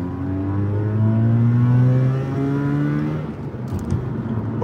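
A Mazda RX-8 rotary engine revs up to about 4,500 RPM with rising harmonic tones, then drops off as the throttle is released. It is loud and close, with no talk over it.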